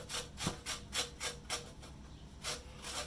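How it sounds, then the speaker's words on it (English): An orange rubbed against the zesting side of a grater: soft, rhythmic rasping strokes at an even pace, about seven in three seconds, close but quiet, with no talking. "Actually, I'm going to zest it first."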